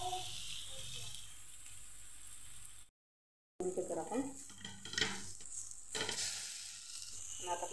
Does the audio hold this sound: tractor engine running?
no